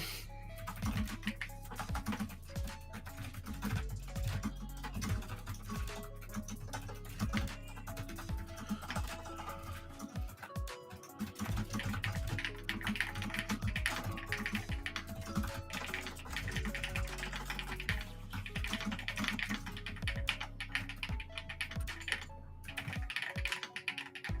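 Continuous rapid clatter of computer keyboard typing, steady and close, running throughout with a low hum underneath.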